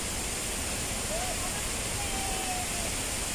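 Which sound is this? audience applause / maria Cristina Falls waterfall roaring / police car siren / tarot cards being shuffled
maria Cristina Falls waterfall roaring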